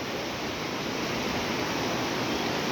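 A river swollen by days of rain rushes past in flood, a steady, dense roar of churning water filling the whole clip without pause.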